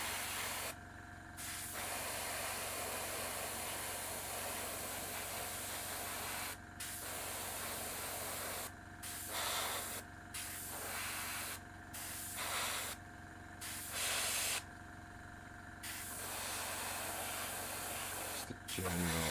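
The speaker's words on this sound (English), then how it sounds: "you can kind of place your brush strokes as such with the airbrush fairly quickly" An airbrush sprays paint on a model in quiet, close bursts of soft hiss, some short and some several seconds long, separated by brief pauses, with occasional soft talk.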